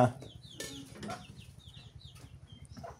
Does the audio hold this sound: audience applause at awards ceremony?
no